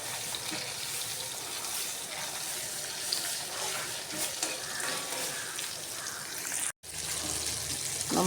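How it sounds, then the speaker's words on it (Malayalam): Masala-coated fish frying in a pan, a steady dense sizzle that fills the whole stretch with soft stirring clatter, broken once by a brief dropout near the end. "മീൻ ഒരു വശം നമുക്ക് മറിച്ചിട്ട് കൊടുക്കാം. ഒരു വശം വേകുമ്പോൾ മറുവശം മറിച്ചിട്ട് കൊടുക്കാം."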